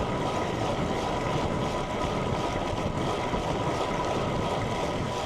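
Strong wind buffeting a microphone while riding a road bike into a headwind, a loud, steady broadband roar that fills the whole clip with no talk over it.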